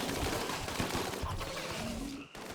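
Shotguns and other guns fire in rapid, dense volleys during a battle against bugs in RimWorld, a continuous clatter of overlapping gunfire at moderate distance that drops out briefly near the end.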